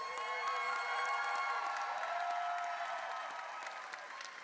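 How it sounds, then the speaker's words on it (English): A crowd at a fashion show applauds and cheers, dense clapping mixed with shouts and whoops that swell loud and sustained, easing slightly toward the end. "Cheer louder, folks."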